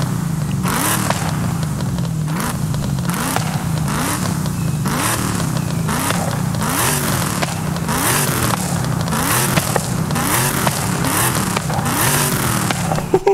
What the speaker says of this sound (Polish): A teraz posłuchajmy, jak brzmi ten samochód